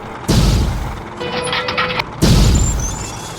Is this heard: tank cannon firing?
yes